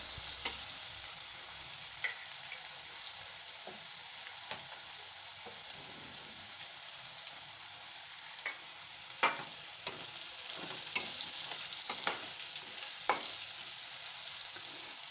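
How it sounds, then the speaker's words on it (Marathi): Onions sautéing in oil in a pan give a steady close sizzle throughout, with occasional sharp ticks and scrapes from stirring, and no speech. "कांद्याला हलकासा गुलाबी रंग येईपर्यंत परतून घ्यायचा आहे तेलामध्ये"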